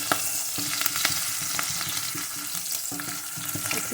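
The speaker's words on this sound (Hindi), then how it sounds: "इसे कुछ सेकंड्स के लिए फ्राई करेंगे।" Chopped green chillies and garlic sizzle and crackle steadily in hot oil for a quince pickle, with a dense, continuous frying hiss broken by sharp pops and occasional stirring scrapes.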